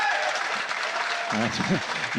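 A crowd applauds after a rally at the men's final of the New Zealand Squash Championships, a steady wash of clapping with a voice talking over it partway through.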